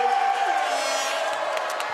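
A basketball crowd at a Newcastle Eagles game cheers and shouts in a steady roar, with a commentator's voice running over the noise throughout.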